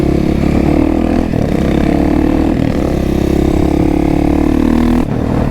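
Carbureted motorcycle engine revving steadily while riding, a loud continuous rumble with a brief dip near the start and another near the end, no talking.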